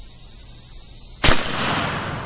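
A single sharp, loud gunshot from a Smith & Wesson Model 67 revolver fired outdoors at a family Labor Day gathering, a sudden crack with a short decaying tail amid a steady high background hiss.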